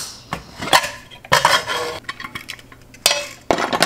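A pressure cooker full of cooked chickpeas is opened: sharp metallic clanks and clinks of the lid and pot come in several quick bursts, close and fairly loud.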